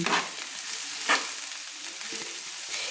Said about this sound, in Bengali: 150 গ্রাম সজনে ফুল দিয়ে আমি ভালো করে আলুর সঙ্গে নেড়ে নিচ্ছি